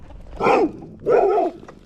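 A puppy gives two short barks about a second apart, close by and fairly loud, with no talking over them.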